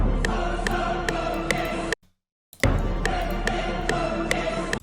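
Chopped orchestral choir hit samples loop in a steady, repeated rhythmic pattern, dense and bright, broken by a short silent gap before the loop restarts.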